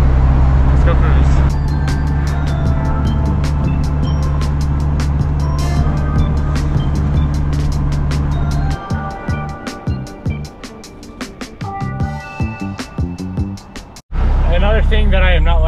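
A modified all-wheel-drive Honda Civic Type R cruising on the road, a steady close engine drone with some clatter and shifting noises, a voice speaking near the end.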